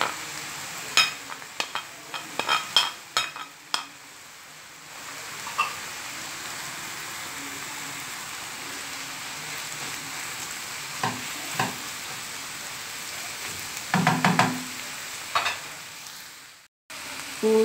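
Colored bell peppers fried and stirred in a pan, with a steady sizzle and repeated sharp utensil scrapes and clacks, busier at the start and again near the end.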